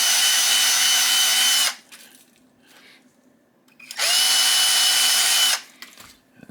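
Power drill buffing an RCBS 9mm reloading die after rust removal, running loud in two steady bursts of about two seconds each, separated by a quiet pause with faint handling noise.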